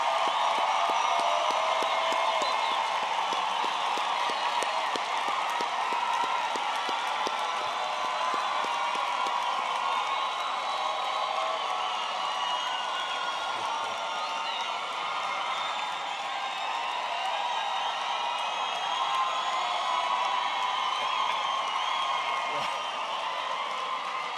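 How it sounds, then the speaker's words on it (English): A large crowd at an engineering graduation ceremony applauds in a dense, continuous wash of clapping that holds steady throughout. "give a big round of applause to the graduates."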